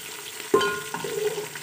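Chopped onions frying in hot oil as the base for a chicken gravy, a soft sizzle and stirring close by, with a brief scrape near the start and a steady crackle afterward.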